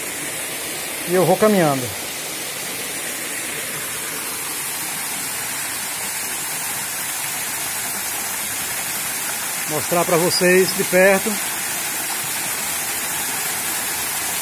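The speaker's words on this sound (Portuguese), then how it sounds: "mas essa é a cachoeira da barragem" Water pours over the spillway of the Fonte Grande dam in Hidrolândia, Uibaí, Bahia, making a steady, loud broadband rush throughout, with someone briefly speaking over it twice.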